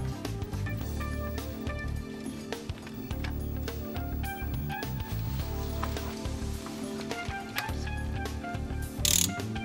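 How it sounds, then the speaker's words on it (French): The crankshaft pulley screw on a 1.4 HDi DV4TD diesel engine is tightened with a ratchet, giving a continuous close run of clicking pawl ticks over a low mechanical hum. "serrez la vis de la poulie de vilebrequin de manière à mettre en contact l'outil et le corps de la pompe à huile"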